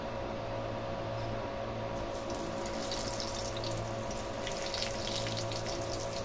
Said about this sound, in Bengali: এবার আমরা নুন হলুদ মাখানো মশলা ভরা বেগুনটাকে তেলের মধ্যে দিয়ে দেবো।